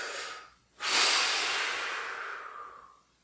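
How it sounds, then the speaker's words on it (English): A person drawing a deep breath in, a short pause, then a long forceful exhalation pushing out as much air as possible, a close breathy hiss that gradually fades out. "I would take a very deep breath in"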